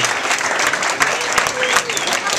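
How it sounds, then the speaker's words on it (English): A round of applause for the ski team coaches at an end-of-season gathering, steady dense clapping from a crowd with some voices and cheers mixed in throughout. "how about a round of applause for the coaches?"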